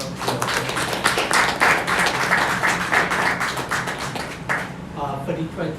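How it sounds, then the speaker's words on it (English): Applause from the crowd at a graduation ceremony for forensic and fraud auditing graduates, steady dense clapping for about five seconds that fades near the end, with a voice speaking over it. "another round of applause for"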